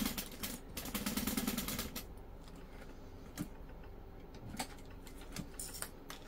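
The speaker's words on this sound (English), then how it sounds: "I will just stitch this open end together." A sewing machine stitches closed the open end of a Sarah Bag, a fast rapid patter of needle strokes for about two seconds, followed by quieter scattered clicks and handling taps.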